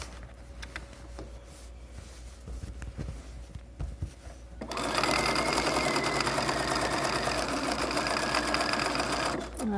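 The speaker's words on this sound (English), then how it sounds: "You have to be careful because you're sewing in a circle that you don't accidentally sew through the back side of your project." Quiet fabric handling and small clicks give way to a sewing machine running a fine straight stitch around a pillowcase, a loud continuous whirring that stops abruptly near the end.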